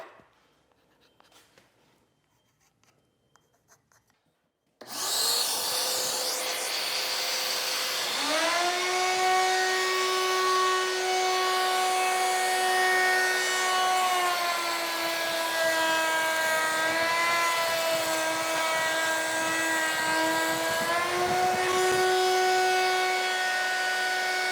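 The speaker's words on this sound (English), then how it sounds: "you want to make sure that where the F is, you're going to put it face down on the router table and slide it through" A router motor on a router table, cutting grooves in boards for a built-in wall unit, kicks on abruptly after a quiet start, then holds a loud steady whine whose pitch sags slightly as each board is fed through.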